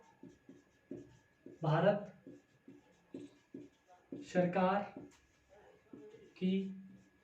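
Pen scratching out notes by hand at a desk in a Hindi-language study lesson, short strokes tapping in a steady rhythm between stretches of a man's close speech.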